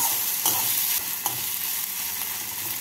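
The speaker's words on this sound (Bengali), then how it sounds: "পেঁয়াজটাকে 1 মিনিট মতো তেলের মধ্যে নাড়াচাড়া করে নিচ্ছি।" Chopped onion sizzles and hisses steadily in hot oil for a paneer cutlet mix, with a few brief scraping stirs of a spatula breaking through the continuous frying noise.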